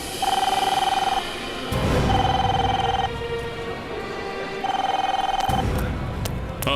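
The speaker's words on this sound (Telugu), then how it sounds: "ఈ ఫోన్ రింగ్ పైనుండి వస్తున్నట్టుంది సార్" A telephone rings somewhere upstairs inside a building, three repeated bell-like trills at a moderate distance, separated by rustling and movement sounds.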